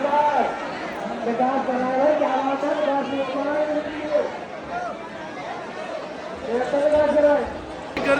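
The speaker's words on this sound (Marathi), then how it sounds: "गर्दी बघा तुम्ही किती आहे" Dense crowd chatter fills a packed temple with a silver sanctum during darshan, many overlapping voices in a steady, close murmur throughout.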